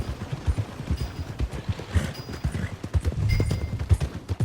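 Horse hooves clip-clop in a steady walking rhythm in the game Red Dead Redemption 2, repeated thuds close by with a faint ambient background, with no voices.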